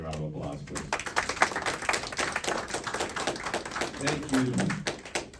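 Scattered, moderately close clapping fills a city council chamber in San Jacinto as people applaud the mayor, with a brief spoken thanks over the clapping.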